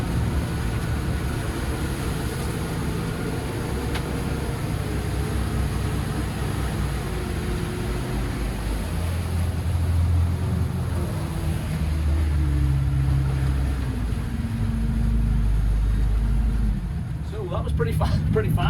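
A Bayliner VR5 Cuddy boat with a MerCruiser 4.5L V6 250HP engine runs at speed on the water, a loud low engine drone under rushing wind, with a voice talking over it.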